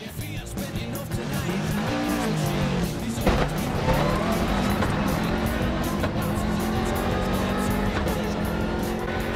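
Rally car with dragging brakes at the Monte Carlo Rally, a steady loud engine drone with tyre and road noise heard from inside, continuous throughout with no talk.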